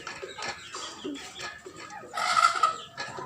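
Backyard chickens in a coop cluck in short, close bursts, with one brief louder squawk partway through.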